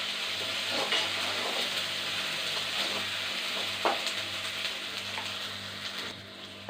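Tomatoes sauté in a pan for a sweet pumpkin pachadi, a steady close sizzle and hiss with occasional spoon scrapes against the pan, no talking.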